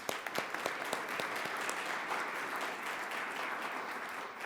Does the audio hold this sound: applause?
yes